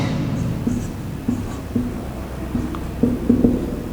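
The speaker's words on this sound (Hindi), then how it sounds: "डोमेन हम यहां पर लिख देते हैं" Marker or chalk strokes on a classroom board, a series of short squeaky scratches spaced unevenly, close and moderately loud over a steady room hum.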